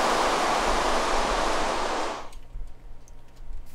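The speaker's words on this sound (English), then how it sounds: "Excuse the rain." Steady broadband hiss of rain falling in Minecraft, loud and continuous for about two seconds before cutting off abruptly, leaving a quiet low hum.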